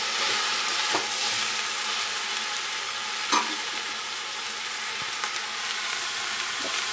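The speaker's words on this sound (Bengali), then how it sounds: "সবজিটা একটু কষাকষি করি, কষিয়ে ভাজা ভাজা করে ব্যাস খিচুড়ির মধ্যে দিয়ে দেবো" Mixed winter vegetables fry in hot oil while being stirred for khichuri, a steady bright sizzle with occasional sharp scrapes and clicks of the spoon against the pan, close up and without talk.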